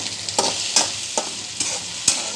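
Okra being dry-roasted in a pan, stirred with a spatula: five evenly spaced scraping strokes over a soft background sizzle, close and moderately loud, with no talking.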